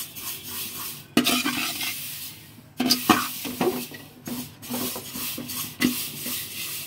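Vermicelli fried until reddish-brown is stirred in a pan, a soft frying hiss punctuated by repeated scraping strokes of a spatula at an irregular rhythm, close and without speech.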